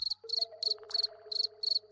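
A person imitating a cricket's chirp, quick bursts of high trills repeated about six times in steady rhythm, with a faint tonal hum beneath, heard alone and close.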